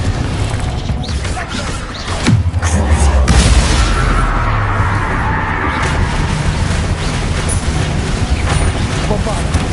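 A Confringo fire-blast spell explodes in Hogwarts Legacy: a heavy booming impact with rumbling and crackling debris swells up a couple of seconds in, then settles into a sustained, noisy roar with faint voices underneath.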